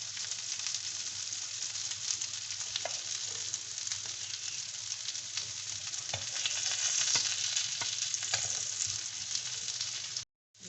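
Seekh kababs fry in a pan with a steady close sizzle, broken by small clicks and scrapes as they are turned, continuous until an abrupt cut at the end; no one speaks.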